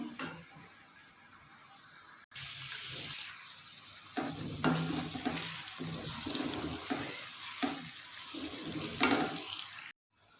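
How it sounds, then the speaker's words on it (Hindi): Eggs fry with garlic and ginger paste and green chilies in a pan, a bubbling sizzle punctuated by repeated stirring scrapes and occasional louder spatters, with no one speaking. "देखें अंडे जो हैं वो लहसुन और अदरक के पेस्ट के साथ अच्छी तरह फ्राई हो रहे हैं"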